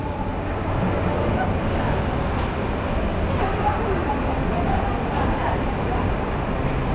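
A continuous loud rumble and rattle of a metro train arriving at a platform rolls in steadily, filling the space with no pauses.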